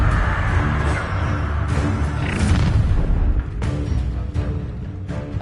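A fiery Incendio spell erupts in Hogwarts Legacy, a heavy roaring burst with rumbling booms and crackling flame that stays loud and sustained across the moment, without talking.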